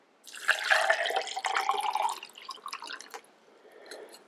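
Liquid pours into a test tube from a lab-in-a-bag science kit, a bright splashy trickle that runs steadily for about two seconds, then thins into scattered drips and small splashes before fading out.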